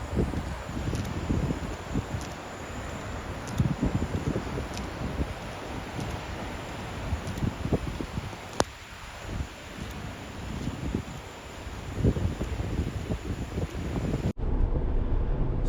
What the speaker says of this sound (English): it is windy, rainy